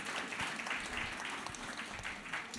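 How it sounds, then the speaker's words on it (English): An audience at a panel event claps together, a brief patter of applause heard from a moderate distance at low level. "Can we clap one more"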